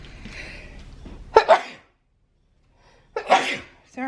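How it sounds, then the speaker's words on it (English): Two loud, close human sneezes, the first right after a stretch of indoor talk and the second a couple of seconds later on its own, each a sharp burst with a quick decay. "I have to sneeze, you guys."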